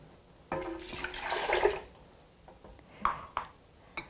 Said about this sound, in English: We'll add the cup of water.